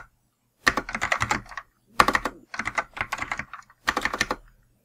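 Typing a command on a computer keyboard, four quick bursts of rapid key clicks separated by short pauses, close and crisp with no talk.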